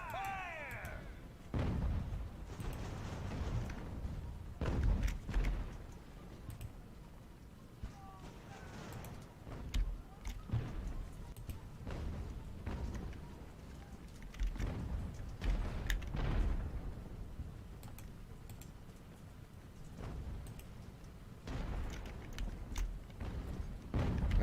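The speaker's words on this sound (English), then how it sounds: "some massive artillery support, though, from the guns off the Kennington" Ship cannons fire in a naval battle in the video game Ultimate Admiral Age of Sail, sounding as a series of heavy, booming blasts at irregular intervals. Rumbling battle noise fills the gaps between shots.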